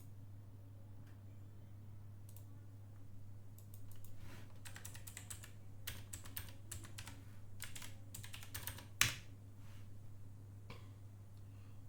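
Keys clatter on a computer keyboard in irregular bursts of typing, close and moderately quiet over a steady low electrical hum, with one sharper keystroke near the end.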